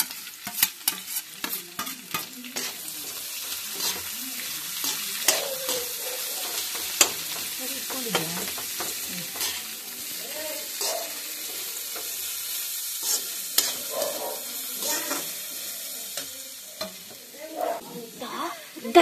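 Chicken sukka frying in oil, a steady soft sizzle under repeated clinks and scrapes of stirring in the pan, fairly close and quiet throughout.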